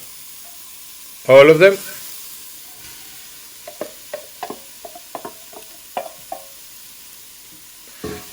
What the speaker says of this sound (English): now these ones you don't need to saute too much, just a little bit together with the mushrooms